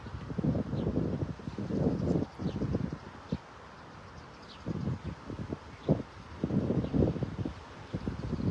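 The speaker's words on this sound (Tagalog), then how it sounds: "Ang lakas ng hangin." Strong gusting wind buffets the microphone outdoors while a fisherman casts a net, loud rumbling bursts rising and falling in irregular waves across the whole stretch.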